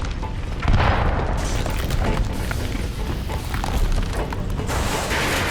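Grenades blasting in a firefight in the video game Mass Effect Legendary Edition, a dense, loud rumble of booms and bursts running throughout, with one heavier hit early on.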